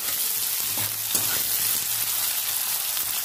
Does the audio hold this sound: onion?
yes